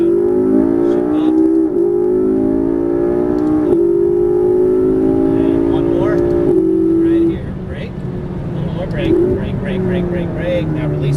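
McLaren MP4-12C on a track, engine pulling hard under throttle with rising pitch, a gearshift breaking the note midway, then easing off; loud and close with an instructor talking over it.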